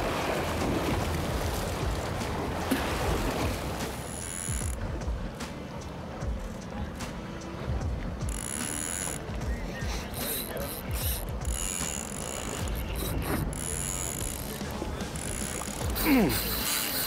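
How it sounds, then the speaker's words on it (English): A fishing reel clicks steadily as line runs out and the drag speeds up, heard over boat and water noise on a Gulf Coast fishing trip off Galveston, with people talking nearby. "You can hear that reel just speed up."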